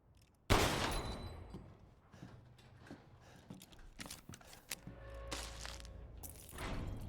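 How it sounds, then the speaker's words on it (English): Pistol gunshots in Resident Evil Village: a sharp loud shot opens, then scattered further bangs and clatters follow at irregular intervals, with a final burst near the end. "And I'll use the damn pistol."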